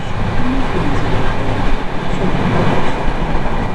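A passenger train rolls into Narail station in Bangladesh, its steady rumble and wheel clatter filling the whole stretch at close range and without pause.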